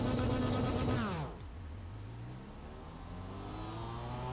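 Race car engine in a sim racing game held at high revs, then dropping sharply and bogging down as first gear is selected before slowly climbing again, loud and steady with no talk.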